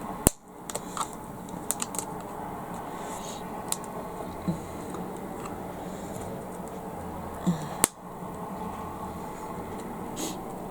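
Scattered light clicks and taps of laptop keyboard keys come at an irregular pace over faint background noise, with a couple of sharper snaps.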